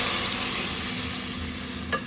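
A soaked ingredient goes into a pan of softened onions and green chillies frying for vegetable upma, giving a steady close sizzle with one brief clatter near the end.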